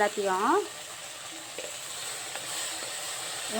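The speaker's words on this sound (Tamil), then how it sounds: "இந்த வாழைப்பூவும் இவங்க கூடயே போட்டு ஒன்றா தாளிச்சிடலாம்" Onions and banana flower frying together in a clay pot, a steady soft sizzle and hiss after a short burst of voice at the start, with a few light stirring knocks.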